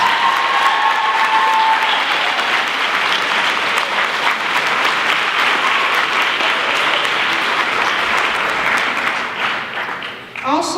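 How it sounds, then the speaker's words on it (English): Audience at a ceremony applauding with dense, sustained clapping from a sizable crowd, steady throughout before tapering off at the end. "Can we give her one more round of applause?"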